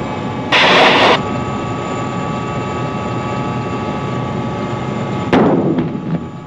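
Mi-25/Mi-35 attack helicopter with twin engines in the 2000 HP class, operating with ground fire: a loud continuous rotor and turbine roar broken by two harsh bursts of firing, one early and one late.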